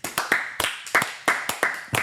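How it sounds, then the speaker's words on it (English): A few sharp hand claps at a small celebration of the Central Coast Mariners' A-League win, irregular and close, spaced a quarter to half second apart rather than a crowd's applause. "Big clap,"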